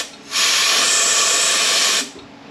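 Compressed air blasts from an air blower tip into a 6L90 transmission drum at the weld, a loud steady hiss lasting about a second and a half, starting and stopping sharply.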